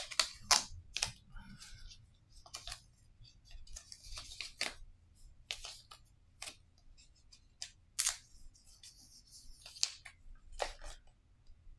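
AirPods Pro 2 packaging is unwrapped close up, with a series of sharp crinkles, tears and clicks in an irregular rhythm over quiet background.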